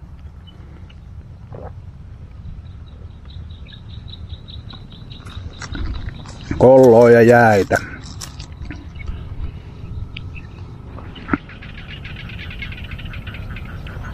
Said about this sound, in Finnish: Sammakotkin siellä heräilee, kun rupeaa pelto saamaan vettä.